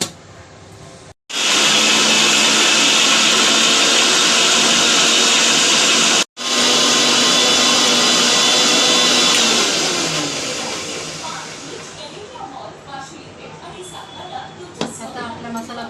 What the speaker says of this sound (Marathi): आता हे मिक्सरला ग्राइंड करून घेते।